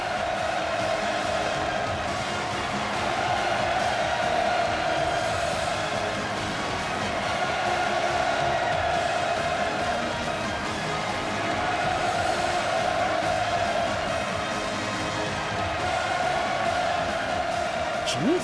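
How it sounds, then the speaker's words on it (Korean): A theatre audience roars in thunderous, sustained cheering, a dense crowd wall of sound that stays loud and steady throughout. "폭풍 같은 환호성이"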